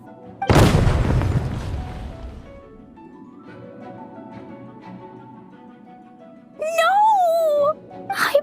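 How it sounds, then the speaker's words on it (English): A loud boom bursts early in a Genshin Impact game scene, its rumble fading over a couple of seconds before a character's voice later cries out over quiet background music. "Explosions can hurt people."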